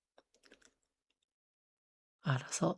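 Short burst of keystrokes on a computer keyboard as a prompt is typed, a few quiet close clicks followed by silence, then a brief louder sound at the end.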